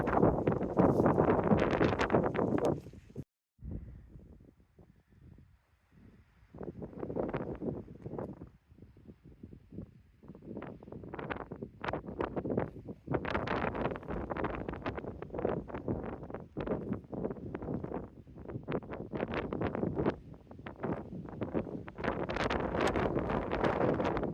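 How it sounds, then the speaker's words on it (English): Strong afternoon wind buffets the microphone in loud, continuous roaring gusts high on a granite crag at Crystal Crag, Mammoth Lakes, with only a brief lull early on. "It's really windy this time of the afternoon"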